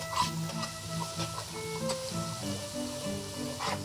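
Garlic paste, two tablespoons, frying in a pan while being stirred for a red bean pulao, with a soft continuous sizzle, occasional scraping and light clinks of the spoon against the pan.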